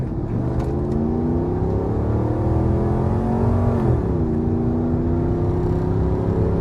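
A Lexus LS400 accelerating from inside the car, with a loud steady engine drone that rises in pitch, dips at a gear change, then climbs again.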